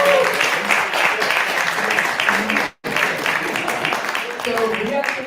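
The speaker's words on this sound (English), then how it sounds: "Give it a round of applause." An audience applauding the judges at a university dApp development course event, loud, continuous clapping that breaks off abruptly for a moment midway and then carries on.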